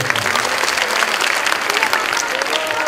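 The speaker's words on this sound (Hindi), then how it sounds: "एक बार फिर से ताली बजा दीजिए।" An audience at an Educate to Heal India event claps together, a dense, loud round of applause filling the whole stretch without pause.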